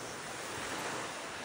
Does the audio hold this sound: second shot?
no